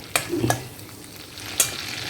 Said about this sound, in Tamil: இப்போ இந்த எண்ணெய் காஞ்செடுத்து இதில் நான் கொஞ்சம் ஜீரம் போட்டுக்கிறேன்